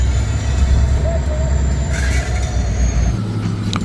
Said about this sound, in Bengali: ট্রেন এখন চলে যাচ্ছে 2 নম্বর টানেল হয়ে 87 ব্রিজ পেরিয়ে 3 নম্বর টানেল হয়ে মলবুম রেলওয়ে স্টেশনে